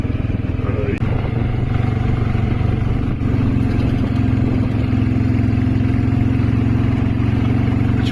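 A motorcycle ridden through Murree, its engine holding a steady mid-pitched drone close to the mic for the whole stretch, with light clatter and occasional bumps; someone talks over the engine noise.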